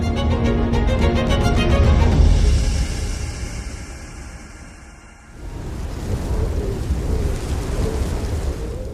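Deep thunder rumbles loudly over falling rain, then fades, leaving a steady hiss of heavy rain pouring down, in the world's wettest place.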